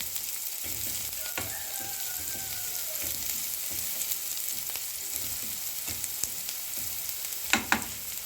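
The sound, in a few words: stirring frying onions with salt and black pepper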